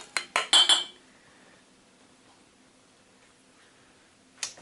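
Warm glass canning jars, just lifted from the canner while canning cranberry juice, clink together in four or five sharp, close knocks, followed by near silence and one last clink at the end.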